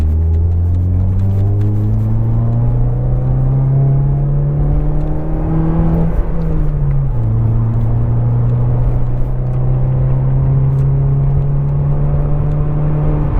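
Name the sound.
2018 Mazda 3 hatchback engine while driving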